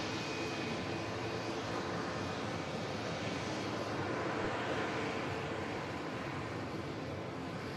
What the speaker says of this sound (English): Such a good looking aircraft, that 220